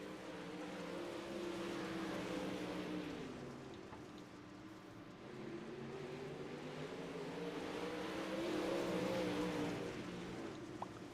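Dirt late model race cars roaring around a dirt track amid lap traffic, engines droning and rising and falling in pitch as they pass, loud and continuous with a broad rumble underneath.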